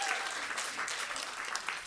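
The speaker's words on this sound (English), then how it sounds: "Give her a round of applause." Audience applause at a farmers-and-chefs food justice panel, a steady dense wash of many hands clapping at moderate level throughout, with no voices standing out.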